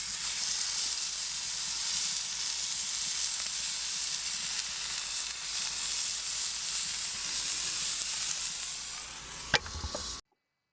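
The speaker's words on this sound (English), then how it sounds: "Burgers on the grill, flat top with that nice juicy sear" Burger patties searing on a preheated cast iron flat top give a steady, dense sizzle and hiss, close and unbroken, with a sharp tap near the end before it cuts off.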